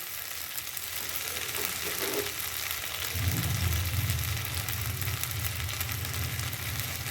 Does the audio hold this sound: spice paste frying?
yes